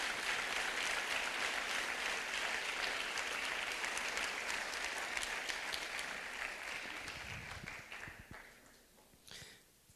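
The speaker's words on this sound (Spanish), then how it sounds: "Puede usted dar una ofrenda de palmas al Señor Todopoderoso." A church congregation claps as an offering to God, a dense, sustained wash of applause that holds steady and then thins and fades toward the end.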